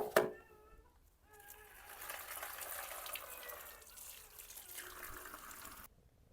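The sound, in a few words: washing with running water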